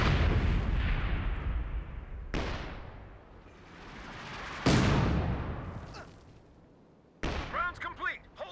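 An artillery barrage in Company of Heroes 2 booms out in three heavy, widely spaced blasts, each decaying into a long rumbling tail, loud and close, followed by a brief radio-style voice.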